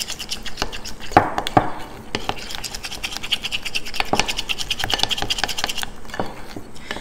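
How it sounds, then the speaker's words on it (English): Whisk scraping quickly through a chocolate mint truffle mixture tinted with gel or powdered colouring, giving close, dry, rhythmic ticking and scratching strokes with a few sharper taps against the bowl. "Give that a quick whisk in."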